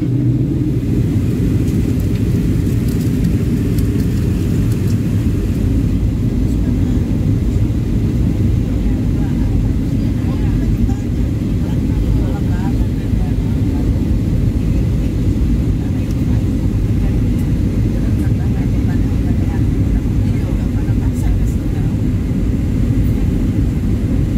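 Steady, loud low rumble of a passenger airliner's engines and airframe heard from inside the cabin during landing and taxi at Makassar, continuous throughout with no clear talk on top.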